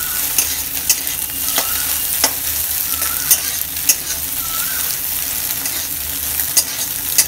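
Egg bhujia fries in oil with a continuous close sizzle, while a utensil stirs it and produces sharp periodic scrapes and taps against the pan.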